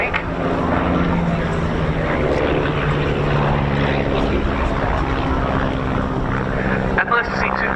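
A de Havilland Chipmunk propeller trainer of the Battle of Britain Memorial Flight drones steadily and loudly overhead in a crossing break at an air show, its engine note holding strong before fading slightly near the end.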